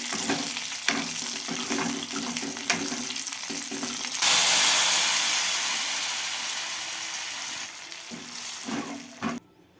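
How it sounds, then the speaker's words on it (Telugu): Spices crackle in a pan, then a loud burst of sizzling hot oil erupts as the tempering goes into pappu charu and slowly fades, with scraping stir sounds around it. "పప్పుచారు కూడా తాలింపు పెట్టేసుకున్నాను"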